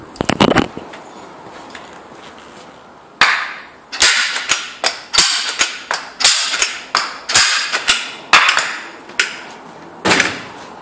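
A giant automatic centre punch being tested fires a string of sharp, loud snapping clacks, a few close together at first, then a pause, then about a dozen irregularly spaced strikes.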